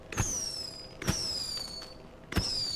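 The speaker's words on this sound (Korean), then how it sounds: "뭔데 불꽃놀이야?" Fireworks going off in the zombie survival video game State of Decay 2: three sharp bursts, each with a whistling tone that glides down, spaced about a second apart over a steady background hum.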